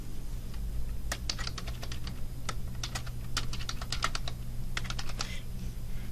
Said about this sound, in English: So I'm going to go ahead and put in my username again.